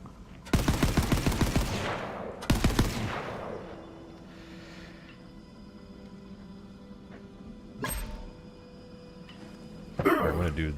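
Gunfire from Borderlands 3 cracks out in loud bursts, two heavy volleys up front followed by a sharper shot and another burst later, with quieter game ambience between them.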